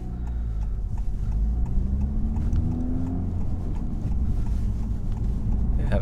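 A 2023 Honda Civic Type R driving with rev matching, its engine a steady mid-pitched drone with a brief rising rev blip, heard from inside the cabin with road rumble and no talking.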